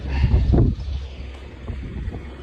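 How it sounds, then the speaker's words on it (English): Wind gusting across a field of corn straw being baled: a close, rushing roar that buffets the microphone, strongest in the first moment and then settling into a steady windy noise. "We got a good wind."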